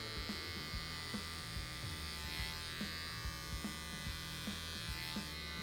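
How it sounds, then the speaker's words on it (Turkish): Electric clipper fitted with a number 4 guard trimming a full beard at home, a steady close buzz with small rhythmic pulses as it passes through the hair, running continuously with no talk. "İlk önce 4 numaraya sakalın tamamını alın."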